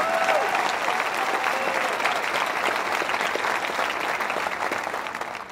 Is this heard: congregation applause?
yes